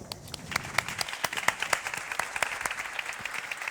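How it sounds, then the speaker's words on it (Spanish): An audience at a literary talk in Almería applauds warmly for author Raúl Quinto, a dense patter of many clapping hands that stays steady throughout, heard from among the crowd. "Yo os pediría que le dierais un aplauso muy cálido a Raúl Quinto."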